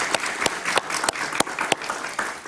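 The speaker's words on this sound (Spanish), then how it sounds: "Un aplauso para él" A studio audience on a Spanish-language talk show claps for an arriving guest, brisk sustained applause with sharp individual claps standing out, no voices over it.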